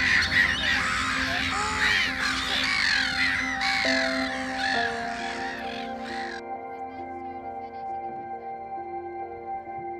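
Several young greylag geese call in a noisy overlapping chorus of harsh honks nearby, which then cuts away to quieter tonal sounds.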